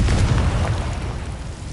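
A Confringo fire spell bursts in the Hogwarts video game, a single loud, dense boom with a rumbling low tail that slowly fades over about two seconds.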